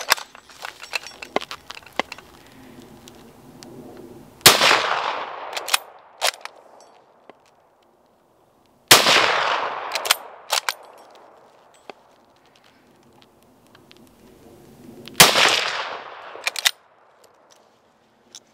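Three loud, sharp rifle shots from an Ishapore 2A fired at steel and water targets, spaced several seconds apart, each ringing out with a long echo, while bolt and handling clatter fills the gaps between them.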